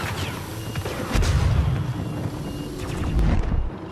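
Scattered gunshots and heavy booms in a firefight, several sharp cracks and deep thuds spread unevenly across the clip, loud and somewhat distant-sounding with no talk.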